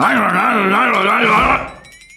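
A voice imitates a garbage disposal grinding, giving a wavering, groaning drone for about a second and a half before trailing off.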